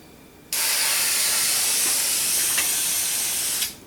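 A rust primer spray can hisses onto a Corvair car hood in one continuous, loud, close burst of about three seconds, starting abruptly and tapering off at the end.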